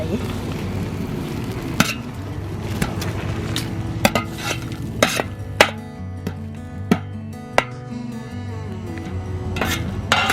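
A spatula scrapes and clanks against a pan in irregular strokes while morning glory (water spinach) stir-fries, sizzling steadily underneath.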